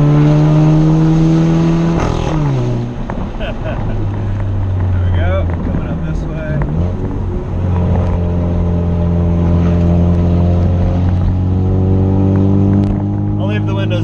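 A 2016 Chevrolet Camaro's engine and exhaust climb loudly in pitch through the gears on a steep, tight uphill road, dropping with shifts and drowning out someone talking over the engine with windows open.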